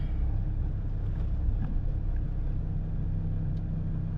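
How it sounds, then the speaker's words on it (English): Steady low road rumble of passing traffic, heard from inside the cab of a one-stack Mack truck waiting its turn to pull out; a continuous broadband drone with no distinct events and no talking. "Good Lord, the traffic."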